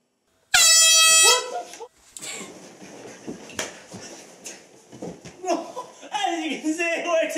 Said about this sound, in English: the best alarm would have to be an air horn